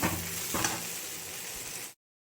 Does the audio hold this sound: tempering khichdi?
yes